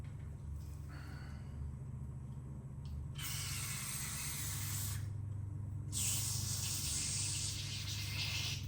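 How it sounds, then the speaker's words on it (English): Carburetor cleaner is sprayed into the small holes of a Craftsman M270 engine's carburetor in two close, loud, steady hissing bursts of about two seconds each, with a low hum beneath and no talking. "Spraying."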